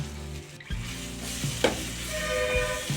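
Ginger garlic paste frying in a pan with cooked-down tomato, onion and methi leaves for a fenugreek pulav, giving a steady close sizzle with a few stirring scrapes and clunks.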